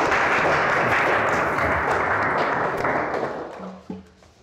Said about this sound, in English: big round of applause to Ajay Uncle